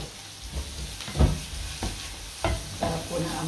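Garlic and onion sauté in a pan, with salt just added, giving a steady close sizzle broken by several scraping stirs and soft clunks of a utensil against the pan.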